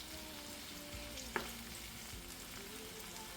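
Saltfish and vegetables are stirred together in a hot pan for cookup saltfish, giving a soft steady sizzle with a light scrape or clink partway through.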